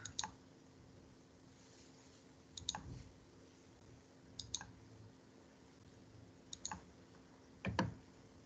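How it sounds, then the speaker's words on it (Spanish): Computer mouse clicks during a drawing-software session, a few short sharp clicks spaced several seconds apart over faint background hiss. "Mira, y con un simple clic."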